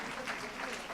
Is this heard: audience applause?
yes